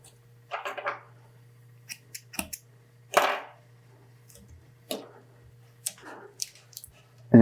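Scissors snip through wrapping thread during custom fishing rod building for a multi-color cross wrap, giving several short, crisp cuts spaced irregularly across a quiet workbench, close and fairly soft.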